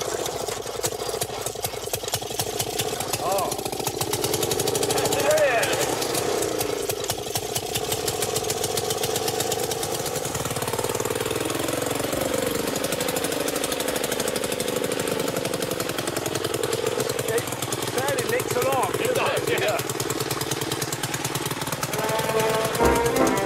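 A vintage motorised lawnmower engine runs steadily and loudly up close, a continuous rattling mechanical drone with slight shifts in pitch as it works, heard alone without speech throughout.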